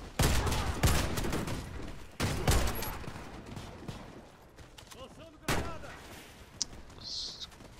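Gunfire in the video game Warface, several sharp bursts of shots, some close and loud, others fainter, with quieter game effects between.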